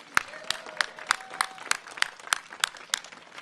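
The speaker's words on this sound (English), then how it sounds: "Let's give a round of applause to George Plow." An audience at a press event at the Coliseum applauds George Plow, with steady rhythmic claps from a smallish crowd, fairly close and even over a few seconds.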